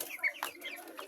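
Hungry chickens cluck while being fed, a few faint, short, overlapping clucks and chirps heard at a distance.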